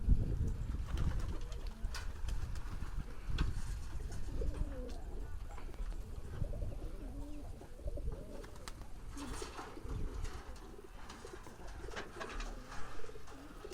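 Koka pigeons and their chicks in a loft, giving low soft coos and murmuring calls that repeat irregularly over a steady background hum, close by, with no speech.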